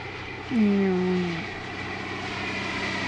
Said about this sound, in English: that's a tow plane, by the way